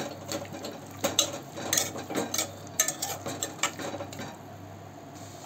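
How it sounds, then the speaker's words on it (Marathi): A utensil scrapes and clinks against a pot in irregular strokes while spices are stirred into soybean khichdi, close and fairly clear, with faint sizzling underneath and no talking. "हे सगळं मिक्स करूया।"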